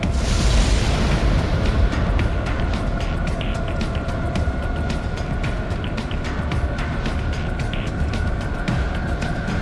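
A missile impact explosion in the video game Ace Combat X, a loud sustained roaring rumble that opens heavy and stays dense and steady throughout, with a faint crackle over the top and no talking.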